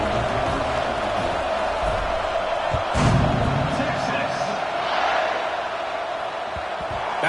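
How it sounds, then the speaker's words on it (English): A stadium crowd in an American football video game keeps up a steady, dense roar that swells briefly with a louder burst of noise partway through, a continuous wash of massed voices. "this crowd is buzzing after that last score"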